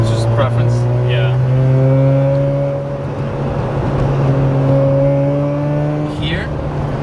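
Car engine driving with harmonic tones shifting in pitch, suggesting gear changes from a downshift to second, steady and close, with someone talking over it.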